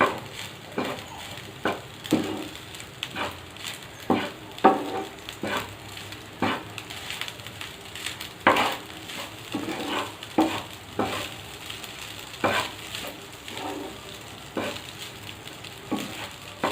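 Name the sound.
mixing paneer fried rice in a pan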